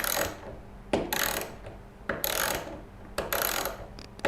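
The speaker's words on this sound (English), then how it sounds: "Nah, speed wrench just got to go fast." A speed wrench ratchets in quick bursts, a close, rhythmic clicking and whirring repeated about four times in a few seconds.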